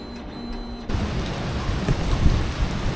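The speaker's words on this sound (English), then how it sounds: "It's raining, it's thunder and lightning, and it's not little bits of rain, it's big bits of rain." Heavy rain pours down during a thunderstorm, a dense steady hiss that jumps louder partway through, with low rumbling thunder underneath.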